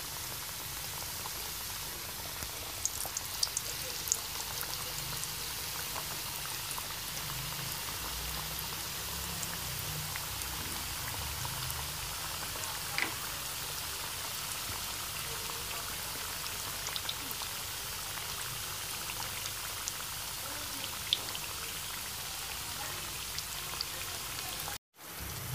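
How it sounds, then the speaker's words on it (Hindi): Samosas frying in oil over a low flame, a continuous dense sizzle and crackle like steady rain, with faint pops scattered through it. It stays even and close for the whole stretch, with no voices. "हमने लो फ्लेम पर इनको फ्राई करना है ताकि ये क्रिस्पी बने।"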